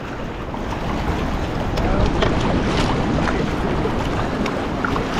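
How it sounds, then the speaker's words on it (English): Rough, churning river water roars under the New River Gorge Bridge, a dense, continuous wash mixed with wind buffeting the microphone. "Look at these waves. Look at this chaos right now."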